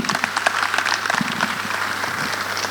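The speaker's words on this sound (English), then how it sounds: "A round of applause for Dr. Kofi Amoa-Abban." Audience applause at a university student event hosted by a CEO, a dense, steady wash of many hands clapping throughout, fairly close and loud with no speech over it.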